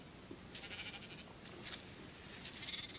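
Sheep bleating from a spawned sheep in Minecraft Pocket Edition 0.7.1, three short bleats spread across a few seconds, faint and alone over a soft background hiss.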